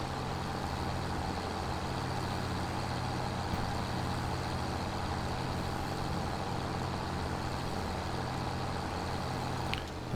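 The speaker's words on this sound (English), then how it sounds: "This tractor's pretty loud." A farm tractor's engine drones steadily and loudly close by, a constant low rumble with a faint higher whine held for the whole stretch, with no talking over it.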